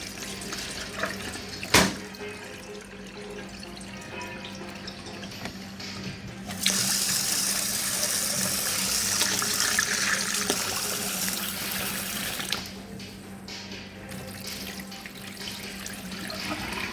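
Tap water runs steadily into a sink while glutinous rice is rinsed for homemade mango sticky rice, a continuous broadband gush that strengthens midway and then eases, with a single sharp knock early on and no talking.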